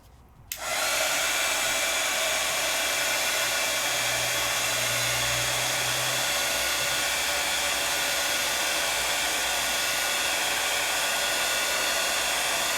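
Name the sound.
heat tool blowing hot air over a stencil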